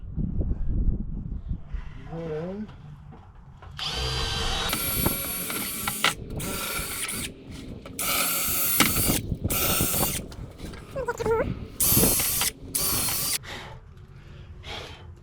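Makita cordless drill driving screws while building a SIP house door frame, giving bursts of loud whirring and ratcheting clutch clicks that start and stop repeatedly, with brief gaps between runs and a little background noise.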